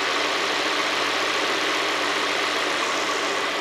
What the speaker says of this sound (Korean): 일단 엔진 소리 먼저 한번 들려드릴게요